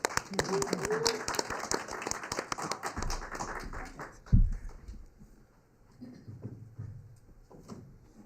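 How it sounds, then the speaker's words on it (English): A small members' meeting group gives a short round of applause, brisk scattered claps that thin out after a few seconds, followed by a thump, quieter room sounds and talking. "Everybody give Sam a big round of applause"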